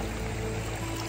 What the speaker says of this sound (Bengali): গাছ থেকে পানির শব্দ খুবই ভালো লাগে